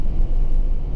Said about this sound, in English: I'm really surprised how smooth this engine is.